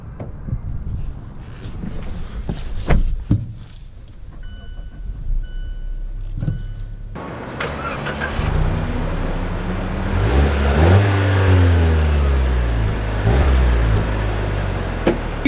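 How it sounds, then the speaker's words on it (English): A 2019 Mazda CX-5 Signature SUV pulling away and driving, engine and road rumble rising after a quiet start, with wind and tyre noise building steadily underneath. "You can see here we are setting off in the 2019 Mazda CX-5"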